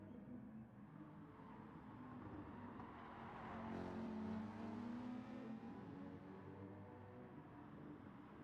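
Race cars roaring through a drag race in the GT Sport racing game, a steady, loud engine drone that swells to a peak midway with rising whine, then holds at a sustained high level.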